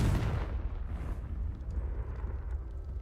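Confringo spell explosion in the video game Hogwarts Legacy, a deep rumbling boom at the start that fades into a low, rolling crackle of debris.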